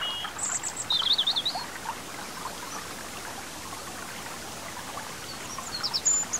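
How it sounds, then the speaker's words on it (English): In a country meadow beside a flowing stream, a few birds chirp and trill faintly over a steady trickling, rushing water wash. "The air is filled with the sounds of birds singing and the rustling of leaves."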